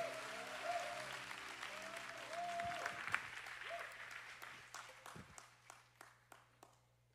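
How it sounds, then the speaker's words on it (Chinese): Applause from a church congregation at a Sunday morning worship service fills the room, a steady wash of clapping over held organ-like music that thins into scattered, separate claps toward the end. "我们掌声欢迎他们"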